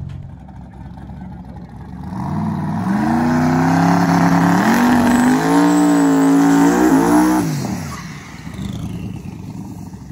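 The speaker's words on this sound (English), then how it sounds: "Our other shop car, Chris Dealman and the Raven, getting these things tuned in for Sunday" A drag race car engine revs up from idle during tuning, its pitch climbing and wavering through several seconds of loud, sustained roar before dropping back to a lower idle, close by.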